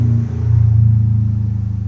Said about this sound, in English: Sorry, loud cars.